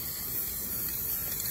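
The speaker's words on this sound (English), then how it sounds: "I'm just gonna do some quick spray" A steady, even hiss of spray paint from a can onto a utility trailer outdoors on a windy day, continuous and fairly quiet, with no talking.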